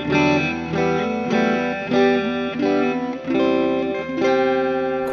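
An electric guitar with two pickups is played through its neck pickup, which is hidden under the scratch plate. A run of clean, ringing chords is strummed in steady succession, close and fairly loud, with no talk.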